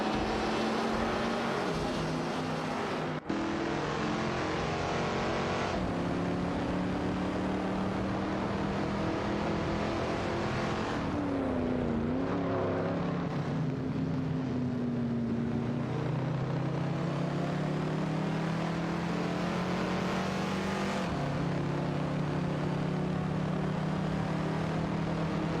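Several racing cars in an AI-driven race roar down the back straight, a continuous loud engine drone with pitch rising and falling as they accelerate and pass, steady and close throughout with no talking.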